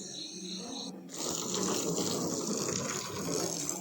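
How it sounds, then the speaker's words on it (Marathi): Water sprays and gushes steadily against a car being washed, a continuous hissing wash close by after a brief quieter start. "ही गाडी धुवून झाली आहे आणि आता ही धुतो आहे"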